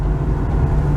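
Warmed-up 1995 BMW 325i inline-six running, a loud, close, smooth low rumble that holds steady through the whole short stretch, with no voices.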